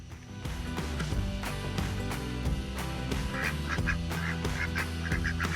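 Pet ducks quacking repeatedly in quick, loud bursts close by, with a busy honking chorus continuing throughout.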